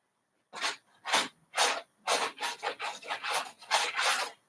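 Scraping paint off an art piece, about nine short, raspy strokes, the first three spaced apart and the rest coming faster, close and clear against a quiet background.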